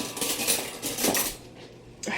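Metal baking pans of ribs clanking and scraping as they are moved about, several quick clattering knocks close by.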